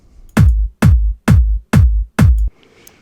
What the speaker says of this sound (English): originally, without any effects, it sounded like this